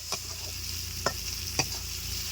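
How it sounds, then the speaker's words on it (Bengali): Pumpkin flowers cook in a pan until their released water dries off, a soft steady sizzle broken by three sharp spatula taps and scrapes against the pan, close by. "এই জলটা শুকিয়ে যাওয়া পর্যন্ত আমি নেড়ে ছেড়ে নেব।"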